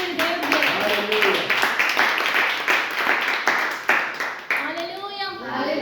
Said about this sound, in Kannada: ಚಪ್ಪಾಳೆ ಹೊಡೆದು ದೇವರಿಗೆ